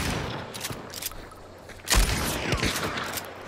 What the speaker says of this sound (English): Covering fire, I got shotgun.